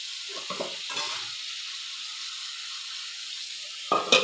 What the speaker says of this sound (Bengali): এটার মধ্যে ফাইনালি আলু ভাজা হয়ে গেল